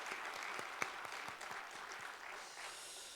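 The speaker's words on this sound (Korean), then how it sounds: "올 한 해도 찬양대를 잘 이끌어갈 수 있도록 우리 박수 한번 쳐 주시겠습니다." A church congregation at a Korean Sunday service claps for the choir, a soft, fairly distant round of applause with a few sharp individual claps that tapers off after about three seconds.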